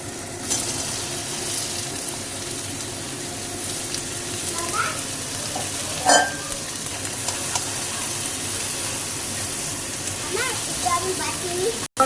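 Sponge gourd goes into a hot pan and is stirred, a steady soft sizzle and hiss with a few scraping clatters of the spatula, while someone talks intermittently over it.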